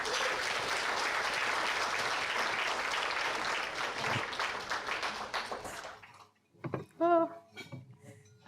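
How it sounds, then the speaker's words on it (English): An audience applauds to welcome a speaker at a talk, steady clapping filling the room for several seconds before it dies away, followed by a few faint clinks and a voice beginning to speak. "So please give a big round of applause and warm welcome to Ilana Mercer."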